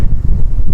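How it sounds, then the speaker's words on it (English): Wind gusts roar across the Lake District fells on an exposed hill walk, a steady low buffeting rush against the microphone with brief dips, no voices. "the wind is picking up a bit"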